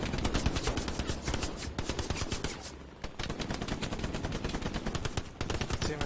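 Rapid, dense bursts of automatic gunfire from the Jarvenhill video game, sustained for several seconds with a brief lull midway, loud and close with no talking.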